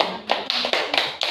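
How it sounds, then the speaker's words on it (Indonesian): A classroom claps for a student group in a few sharp, evenly spaced beats close by, with no talk. "Kita kasih tepuk tangan untuk kelompok 3."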